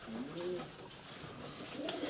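Several pigeons coo in soft rolling phrases, one bout early and another near the end, with faint background noise and no speech.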